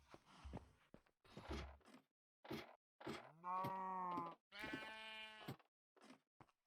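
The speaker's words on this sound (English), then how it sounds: "We're going to grab a sheep." Two drawn-out sheep bleats from a Minecraft video game, quavering and nasal, with soft clicks and rustles before them, quiet and near.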